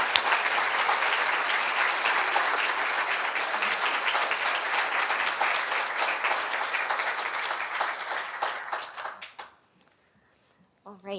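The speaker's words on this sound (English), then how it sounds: "maybe we'll give them a round of applause." A room of attendees at a talk on the Icelandic Prevention Model gives sustained, dense applause that holds steady, then thins into scattered claps and fades to near silence, with a brief voice at the close.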